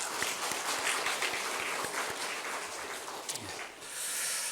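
A church congregation at a Sunday worship service applauds the church school teachers, a steady wash of clapping filling the room at moderate, somewhat distant volume without speech over it.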